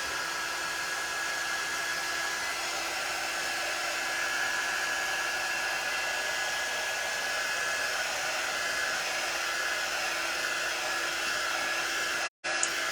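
A hair dryer blows steadily and loudly, drying paint on a journal cover, with an unbroken airy roar that cuts out briefly just before the end.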